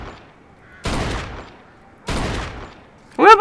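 Gunfire in the video game Mafia 2: two loud, sharp shots about a second apart, each trailing off in a short echoing tail, followed at the end by a voice starting to speak.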